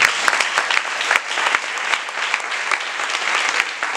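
Loud, sustained applause from a church congregation, with dense clapping that continues steadily and alone, no voices standing out.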